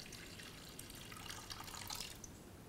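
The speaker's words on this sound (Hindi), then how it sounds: "इसमें जाएगा 2 कप पानी।" Water pours into a cooking pan on the stove, two cups' worth, heard as a faint, steady splashing hiss with a few brighter drips and no talking.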